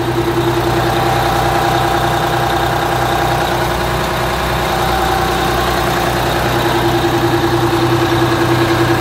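A fire truck's Detroit diesel engine idles steadily, a loud, close, even rumble with a constant low drone and faint mechanical chatter, with no voices over it.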